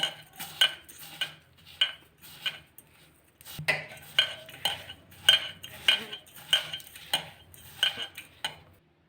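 Spices, salt, asafoetida and oil being stirred together for Gujarati stuffed aubergine, a spoon scraping and clinking against a bowl in a steady run of close, repeated strokes with short pauses between them.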